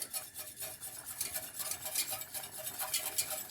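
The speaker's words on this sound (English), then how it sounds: "You give it a really good whisk." A whisk beating a butter-and-milk roux in a pan to work out lumps, quick continuous metallic swishing and scraping, fairly soft and up close.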